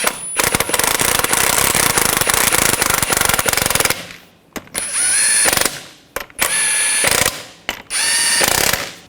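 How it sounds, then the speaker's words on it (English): Impact wrench spinning lug nuts onto the front wheel of a 2015–2020 Cadillac Escalade, a loud rattling burst of about four seconds followed by three shorter hammering bursts with gaps between. "get the lug nuts started. Let's snug those down."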